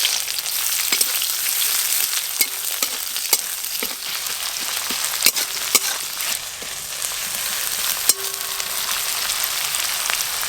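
Black cumin and chopped onion frying in hot mustard oil for a village-style small fish curry, a steady loud sizzle with scattered sharp pops and crackles, no voices.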